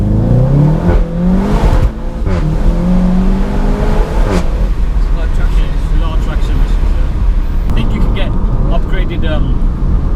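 A Seat Leon Cupra 290 accelerates hard at full throttle, its engine note climbing loud and close through the revs, with a brief gear change before pulling on steadily to the end.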